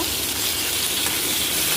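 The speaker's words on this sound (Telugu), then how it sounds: "తీసి కొబ్బరి ముక్కలు ఇలా ఆయిల్లో వేసుకోవాలి" Coconut pieces fry in hot oil for kobbari pachadi, giving a loud, steady, dense sizzle that fills the whole moment without any talking.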